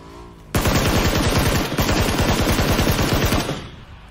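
Rapid automatic gunfire in PUBG, one loud close burst of evenly spaced shots lasting about three seconds with a brief hitch partway through, then fading out.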